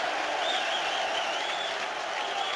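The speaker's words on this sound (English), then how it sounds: "And certain irony to the applause as Saunders" Football stadium crowd at a Premier League match applauding, a broad sustained wash of clapping and crowd noise with a commentator speaking over it.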